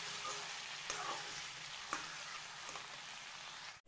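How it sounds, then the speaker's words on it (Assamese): Plain potatoes frying in a pan, a soft continuous sizzle with occasional light stirring knocks, fairly quiet and without any talking. "অকল আলু এনেদৰেই ভাজিছোঁ"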